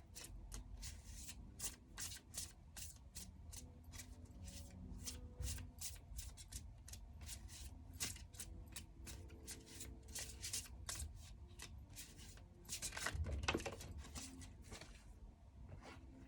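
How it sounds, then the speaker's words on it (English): Tarot cards being shuffled and a card pulled, a quiet, rapid run of crisp riffling flicks repeating steadily, close up, with a slightly louder burst of card handling near the end and no talk. "So I'm going to pull a card to clarify the Justice."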